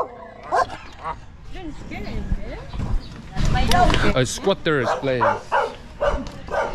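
A dog barks and yips in short bursts close by at a squatter's place in Bais, Negros Oriental, Philippines, while people talk throughout over street noise.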